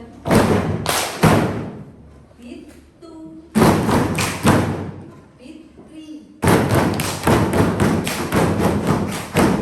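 Hands slap a table in a primary school classroom, repeated thumping on the hard surface in three loud bursts, with brief pauses of talk between them.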